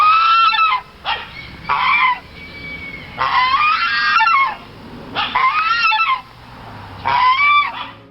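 Geese honking loudly and close, several bursts of harsh overlapping calls separated by short pauses.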